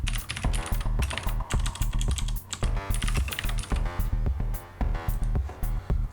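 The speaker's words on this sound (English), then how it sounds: "Go ahead and type out your text" Fast, steady typing on a computer keyboard, dense clacking keystrokes close and clear throughout, with no one speaking.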